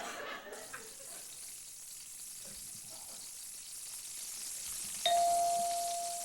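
Deep-fried Twinkies sizzle in a fryer at the Puyallup Fair, a steady crackling hiss. A bell dings sharply near the end and rings on.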